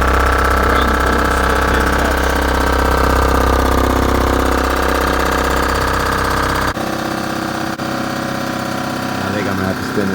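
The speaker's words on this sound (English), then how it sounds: "I think I'm going to have to spin this cutter before we do the final cut. It's a little loud." Surfacing machine cutter spinning with a loud, steady mechanical drone and whine, continuous for about seven seconds before dropping abruptly to a quieter hum as it spins down.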